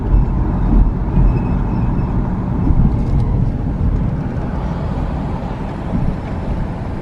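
Car driving slowly through downtown Oberlin, Louisiana, a continuous low road rumble and engine hum with wind noise, no voices.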